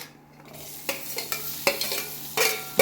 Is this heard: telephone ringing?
no